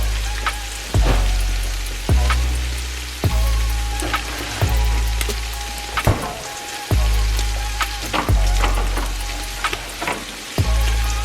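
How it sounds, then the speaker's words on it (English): Heavy cream and milk poured into a hot pan for a cheese sauce, giving a loud, steady sizzle that swells in repeated surges every second or so without any talk. "I am going to add my heavy cream and milk"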